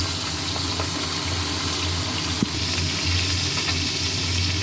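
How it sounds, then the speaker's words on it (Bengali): Fish sizzles steadily in hot oil with a continuous crackling hiss, close up, plus a brief clink midway and a low background hum. "মাছ ভাজা হচ্ছে, খানিকটা ভাজা হয়ে গেছে"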